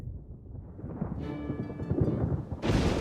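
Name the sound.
thunderstorm thunder in the video game Pokopia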